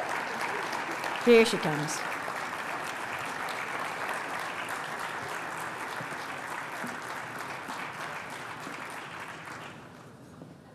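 An awards luncheon audience claps steadily and at length, a dense sustained applause that fades near the end, with a brief spoken line near the start.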